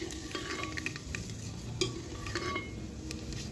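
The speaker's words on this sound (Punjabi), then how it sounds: "ਤੇਲ ਸਾਡਾ ਗਰਮ ਹੋ ਗਿਆ ਜੀ ਹੁਣ ਅਸੀਂ ਇਹਦੇ ਚ ਪਾਵਾਂਗੇ ਮੇਥੇ" Fenugreek seeds sizzle quietly in hot oil in a pan while making pakora kadhi, with light stirring scrapes and small metallic clinks throughout.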